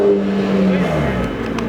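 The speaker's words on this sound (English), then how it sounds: "Oh, GTR's leaving." A Nissan GT-R revving hard and pulling away at a rainy car meet, a loud close engine roar that gradually fades, with voices briefly audible in the background.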